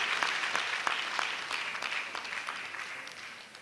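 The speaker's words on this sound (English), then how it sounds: "Let's give them a round of applause." Audience applause at an induction ceremony, a moderately quiet spread of many hands clapping with sharp individual claps standing out, gradually thinning toward the end.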